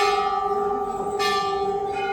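Temple bells at Jageshwar Dham, Almora, Uttarakhand ring with a sustained, shimmering tone that keeps humming, and a second strike lands midway, loud and close.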